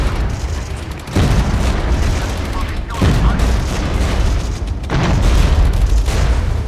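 Gunfire and heavy booms in the Regiments PC war game, dense rumbling volleys and blasts in three loud surges separated by brief dips, continuous and close, with a voice speaking under the battle noise.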